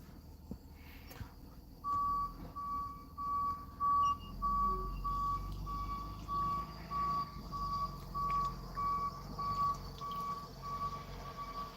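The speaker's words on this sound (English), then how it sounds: "School bus." A large vehicle, probably a truck, idles and rolls past at a distance, its repeated reversing-style beeps ringing out steadily over a low engine rumble on a cold outdoor evening.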